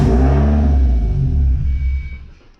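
A 1990 Mazda Miata engine cranks and rumbles loudly, then fades as it fails to catch and dies away, its fuel pump not priming.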